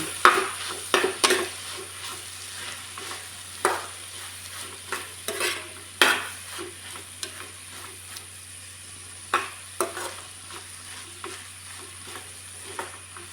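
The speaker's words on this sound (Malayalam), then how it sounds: "മൂടി വെച്ച് നമുക്കൊന്ന് വേവിച്ചെടുക്കാം ഇടക്കും നമുക്കൊന്ന് ഇളക്കി കൊടുക്കാം" Okra frying with black pepper in a pan for a Kerala mezhukkupuratti, a soft sizzle beneath repeated sharp scrapes and clinks of a spoon stirring against the pan at irregular intervals, close by.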